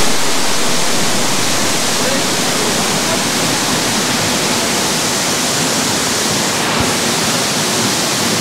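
Loud, dense roar of waterfall spray at Melincourt or Henrhyd Falls in Wales, a steady broadband rush heard from very close and filling the whole clip.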